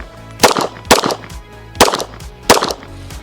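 Four loud, sharp pistol shots during a shooting drill, fired in two quick pairs about half a second apart with a pause between pairs, each with a short echoing decay and no talking.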